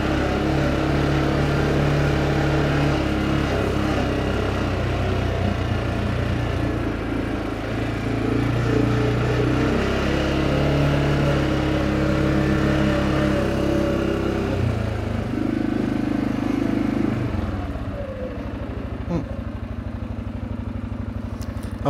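An off-road vehicle, a CFMOTO or Can-Am, drives across a field and turns around at its end, its engine a steady, loud rumble throughout with clattering and a shift in tone near the end.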